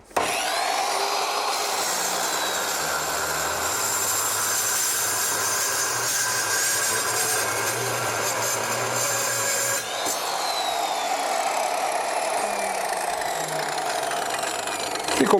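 ASM Ultra AC713 compact cut-off saw with an abrasive disc cutting through a steel shaft 50 mm across with 6.5 mm walls, a loud continuous grinding whine with harsh scraping, briefly dipping near the ten-second mark before carrying on.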